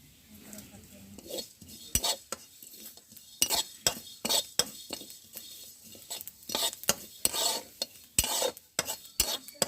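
Dry-roasted panch phoron spices being ground for a homemade elephant apple pickle, with a series of sharp irregular scraping and knocking strikes, some louder than others, spread across a quiet background.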